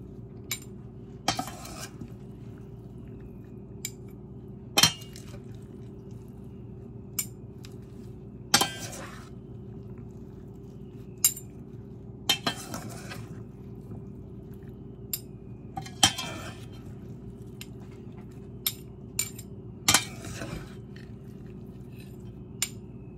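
Antipasto salad is tossed in a very full bowl, with sporadic utensil clinks and scrapes against the dish over a low steady background hum, no talking.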